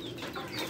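Free-range village chickens on a farm in Saudi Arabia cluck softly in a brief, quiet burst after being hosed down, a few overlapping birds close by.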